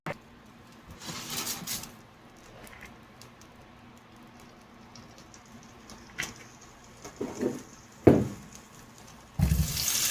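Cooked penne pasta water is poured off through a colander in a kitchen, quiet trickling and patter building to a few louder splashes and a final rushing pour.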